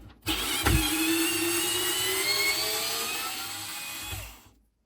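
A Parkside PSSA 4 B2 cordless screwdriver spins out a small screw, a steady whirring motor whine with a rising tone lasting about four seconds, close and alone, with faint clicks at start and end.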